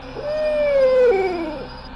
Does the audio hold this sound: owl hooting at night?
yes